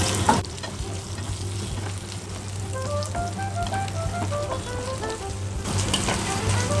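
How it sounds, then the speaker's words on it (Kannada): Green chillies fry in hot oil in a pan for a paneer and green peas masala, a steady close sizzle with faint scraping clinks of a ladle stirring through it, no voices. "ಸ್ವಲ್ಪ ಇದನ್ನು ಕೂಡ ಸ್ವಲ್ಪ ಆಡಿಸ್ತೇನೆ ಸೌಟಾಡಿಸ್ತೇನೆ ಇದರಲ್ಲಿ"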